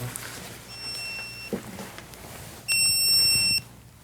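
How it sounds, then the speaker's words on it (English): Two short electronic beeps sound close by, a brief high tone followed by a louder, longer one, over faint background noise. "I don't know if this is beeping."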